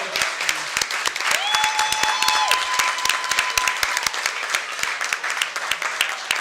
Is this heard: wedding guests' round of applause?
yes